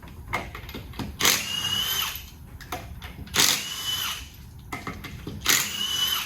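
A Ryobi power drill runs in three separate bursts of a second or so each, whining up to speed and stopping, with a rattling background and faint shop noise between the bursts.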